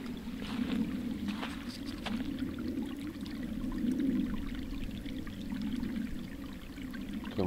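Small stream of water running through a desert valley with dense grass and bushes, a faint, continuous close trickle and gurgle with no voices.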